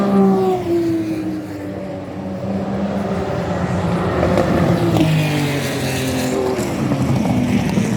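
Porsche race car number 17 in the pits for a tyre change, with a loud engine drone whose pitch sweeps and shifts, alongside other race cars roaring past the pit lane.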